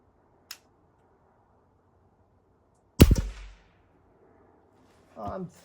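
A Winchester 1977XS air rifle fires a single pellet shot, a sharp, loud crack with a short decay in the middle of otherwise quiet surroundings, preceded by a faint small click and followed by a brief muffled impact.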